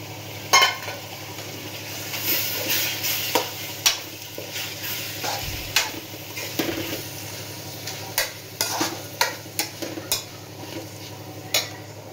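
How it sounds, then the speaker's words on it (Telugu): Chopped tomatoes frying in a pan for tomato rice, a continuous sizzle with frequent sharp clinks and scrapes of a metal spoon against the pan, close by and irregular. "ఇప్పుడైతే ఇక్కడ టమాటా వేస్తున్నాను"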